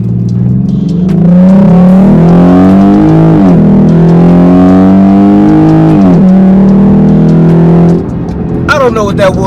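A V6 2020 Jeep Grand Cherokee fitted with an MMX throttle body and K&N cold air intake accelerates hard from 0 to 60, its engine note climbing loudly through several gear changes before easing off near the end.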